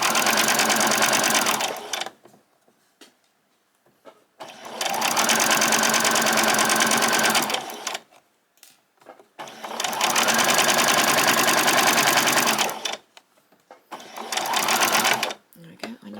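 A sewing machine stitches pajama bottom fabric in four bursts of steady, rapid whirring, each a few seconds long and separated by brief pauses with handling sounds, close and clear.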